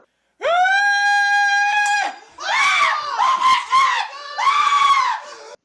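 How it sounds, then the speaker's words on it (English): A child screams loudly and alone, first as one long sustained high shriek and then as several shorter wavering bursts, in an attempt to shatter a glass. "the kid screamed at just the right frequency in order to shatter the glass"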